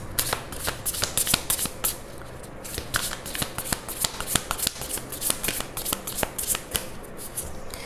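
Tarot cards being shuffled by hand during a Hindi tarot reading, a steady run of crisp riffling flutters and soft slaps lasting throughout, close and fairly quiet with no talking.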